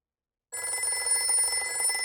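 After half a second of silence, a telephone starts ringing with a steady, bright electronic trill that carries on to the end, fairly quiet and unaccompanied.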